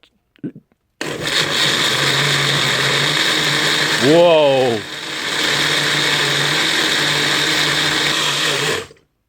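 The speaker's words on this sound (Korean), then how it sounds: "여기다가 물을 여기랑 비슷한 수위로 맞춰서 넣어준 다음에 믹서기를 확 갈아버리도록 하겠습니다" A blender grinding cereal with water whirs loudly and steadily for several seconds, its motor pitch bending briefly midway as contents churn, then cutting off.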